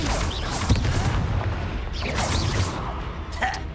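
A spell cast in the Hogwarts Legacy video game: a dense, booming magical blast with sharp impacts near the start and end, over continuous rumbling game effects.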